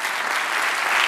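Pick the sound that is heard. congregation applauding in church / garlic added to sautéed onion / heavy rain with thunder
congregation applauding in church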